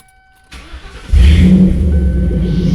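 A Ford 4.6 V8 with its throttle plate shimmed slightly open turns over after a short silence, catches and settles into a loud, steady idle, close up with no voices.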